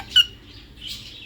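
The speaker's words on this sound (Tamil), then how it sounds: "மயில் பார்த்தியா? பறந்துக்கிட்டு வர்றான்." A peacock calls outdoors, one sharp, loud squawk followed by a fainter, drawn-out cry, with quiet gaps and no talk over it.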